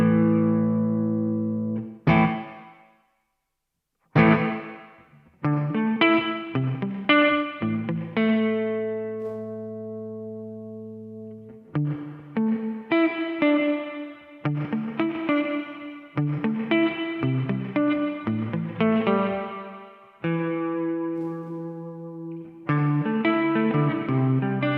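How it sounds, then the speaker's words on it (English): Electric guitar played through a DemonFX reverb and delay workstation with pre-delay set, clean picked notes and chords ringing out with a lingering wash of reverb after each, close and alone. "The pre-delay controls how long it takes before the reverb kicks in."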